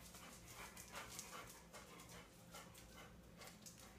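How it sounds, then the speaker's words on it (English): A dog pants quietly nearby in a steady rhythm of quick breaths, faint and close, with no talk over it. "Oh, look, that's my dog."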